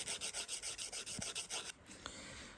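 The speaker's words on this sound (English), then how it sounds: "then you can file both ways, and it's not going to make that terrible sound" A nail file rasps rhythmically back and forth across a fingernail held taut, about a dozen even strokes close and clear, then the scraping stops and only faint room tone remains.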